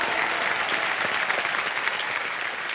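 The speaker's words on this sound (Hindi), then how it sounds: "ताली बज जाए इनके लिए।" Studio audience on a television quiz show applauding steadily, a dense even wash of clapping that holds at constant loudness throughout with no voices standing out.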